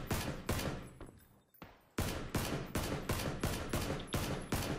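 Gunfire in the video game PUBG sounds as a rapid series of sharp, loud shots in a steady rhythm, broken by a brief pause before the shots resume.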